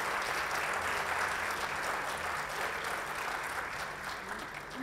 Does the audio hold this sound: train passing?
no